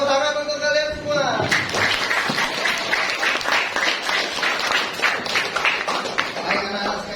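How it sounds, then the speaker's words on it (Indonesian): A class of students claps for several seconds in a busy, sustained burst of applause, following a brief voice at the start. "tepuk tangan untuk kalian semua"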